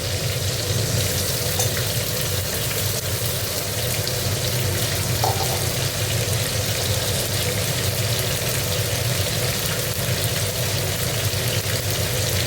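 Ginger, coriander and cumin paste frying in a pan for a cabbage dish, giving a steady, loud, dense sizzle that holds without a break throughout, with no voices over it.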